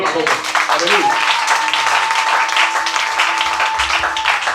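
A church congregation applauds, a dense, steady wash of clapping that holds for several seconds, close and loud, with voices mixed into the crowd.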